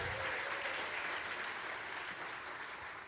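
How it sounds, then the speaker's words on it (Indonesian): Sustained applause from a large crowd at a church revival meeting, steady and dense clapping that continues throughout at a fairly even level. "tepuk tangan untuk Tuhan Yesus Kristus."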